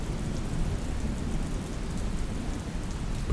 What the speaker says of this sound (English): But it was raining outside.